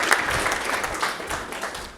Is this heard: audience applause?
yes